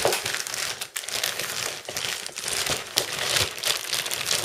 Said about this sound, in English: we just take this plastic cover off, and then the actual tripod itself comes out